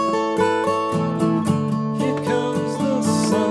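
Acoustic guitar plays a song phrase, a steady run of plucked notes ringing over sustained bass tones, close and clear with no talking.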